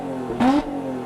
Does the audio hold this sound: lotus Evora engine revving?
yes